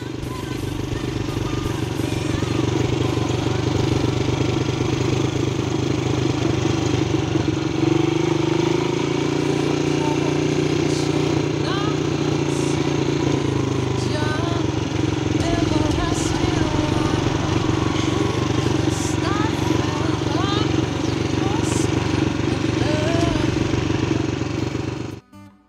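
A motorcycle rolls slowly downhill on a road near the Banabuiú reservoir, using engine braking. Its engine drones steadily and close up for the whole stretch, with faint clatter and wind-like noise, and fades out abruptly at the end.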